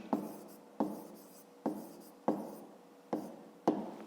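A pen writes on paper in six quick, evenly spaced strokes, each a crisp scratch that fades before the next, close and quiet with no voices.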